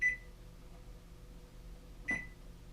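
A Maytag oven's control panel beeps twice while a timer is set, two short, clear electronic tones about two seconds apart over a faint steady hum.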